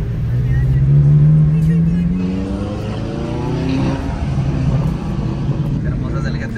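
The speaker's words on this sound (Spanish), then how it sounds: "Qué hermoso es el GTR rodando" A Nissan GT-R rolls past at a car meet with exotic sports cars, its engine drone rising and falling in pitch as it goes by, loud and steady, with people talking nearby.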